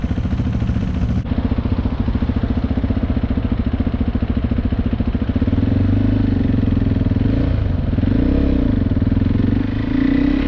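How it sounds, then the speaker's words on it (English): A KTM 390 Adventure single-cylinder motorcycle pulls steadily while running in, its engine a loud close throbbing drone that shifts pitch a few times as it upshifts with the quick shifter. "I'm holding the throttle steady, taking my hand off the clutch, and upshifting"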